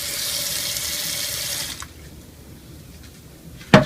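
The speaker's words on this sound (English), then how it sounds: "And I'm going to add a little bit of water." A tap runs steadily as water pours into a curry pot holding vegetables, a loud rushing stream for nearly two seconds that then stops, leaving quiet room noise and one sharp clunk at the end.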